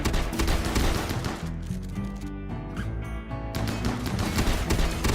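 Rapid bursts of shotgun fire from the video game Rimworld crackle in dense, overlapping volleys, with a brief lull before the shooting resumes.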